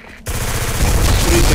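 Rapid automatic gunfire in the shooter video game Black, a loud continuous burst of shots that begins abruptly after a brief quiet moment and stays dense to the end.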